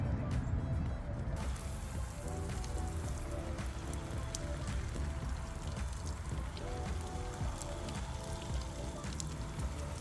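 Pre-wash snow foam sprayed onto a car to loosen winter grime and road salt, a steady close hiss of spray lasting throughout with no breaks.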